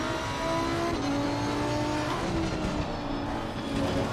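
A racing car in a video game oversteering around the Nürburgring Nordschleife, its engine whining in a steady, sustained drone as it shifts pitch, with faint hints of tyre squeal.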